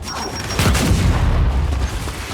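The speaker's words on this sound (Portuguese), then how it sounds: "Lançando granada de fragmentação!" A fragmentation grenade goes off in the Gears 5 video game as a heavy, low boom that rolls on for about two seconds, loud and close, with no speech over it.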